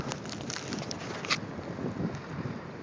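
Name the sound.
wind during Chicago blizzard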